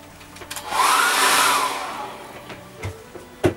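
A hair dryer blows over wet acrylic paint on a canvas, a loud whooshing roar swelling in near the start, holding for about a second, then fading out, followed by a few soft knocks.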